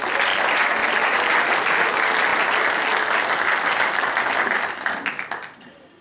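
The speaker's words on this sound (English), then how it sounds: "Round of applause for Mandy," Dense applause from a crowd at a borough council sports awards ceremony holds strong, then breaks into scattered last claps as it fades.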